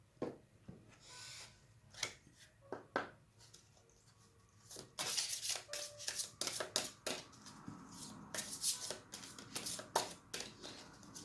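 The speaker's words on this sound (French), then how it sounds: "Ici, je vais vous tirer une carte des murmures de guérison, qui sont des cartes magnifiques." Healing whisper oracle cards being shuffled by hand, a quiet run of soft riffling and flicking bursts that grows busier and denser partway through, with no talk.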